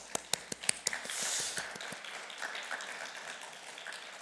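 Church congregation applauding during a Sunday worship service, opening with a few sharp separate claps that swell into a short burst of clapping from the room before fading to a quiet murmur.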